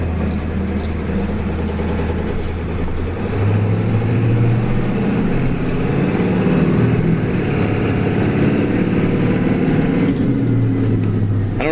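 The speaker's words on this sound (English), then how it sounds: "record the exhaust tone of the bus for me" A school bus engine drones steadily from the driver's seat, its exhaust note rumbling low and loud with a rise in pitch partway through, turbo hiss faint underneath and no talking.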